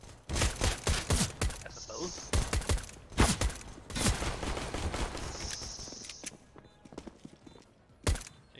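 Rapid gunfire bursts in a video game rattle in several clusters over about eight seconds, loud and close, with a short spoken remark in between.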